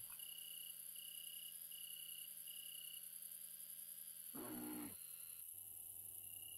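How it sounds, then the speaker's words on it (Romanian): A bear's short, loud guttural roar in the Hoia Baciu forest, bursting out once for about half a second over a steady night backdrop of chirping crickets and insects. "Ăsta cred că e urs."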